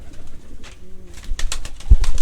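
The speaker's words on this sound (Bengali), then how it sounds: "এই যে এখানে কিছু কবুতর দেখতে পাচ্ছি" Silver-faced and native pigeons on a farm give a soft, low coo near the start, followed by a thickening wash of rustling and flapping noise that grows louder toward the end.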